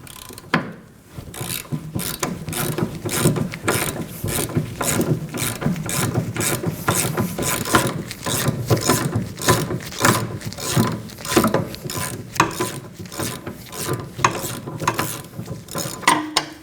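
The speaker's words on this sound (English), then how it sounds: "Using a 19mm socket, go ahead and take it out." A ratchet turning a 19mm socket to remove a bolt on a Kia Optima during rear brake work, with rapid rhythmic clicking strokes repeating close up for the whole stretch.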